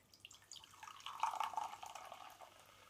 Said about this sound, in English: I'm going to pour it into a glass.